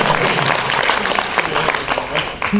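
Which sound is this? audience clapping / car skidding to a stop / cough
audience clapping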